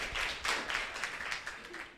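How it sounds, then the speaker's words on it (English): Audience applause at a children's UN75 dialogue event on the impact of COVID-19, a short burst of scattered clapping that fades quickly. "another round of applause for you guys"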